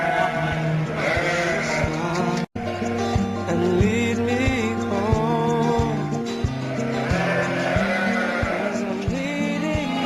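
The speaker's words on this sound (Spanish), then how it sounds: "Esta de aquí es una oveja patria. Hablamos de la raza ansotana" Ansotana sheep bleat loudly and repeatedly close by, several overlapping wavering calls filling the whole stretch, with a short silent gap partway through.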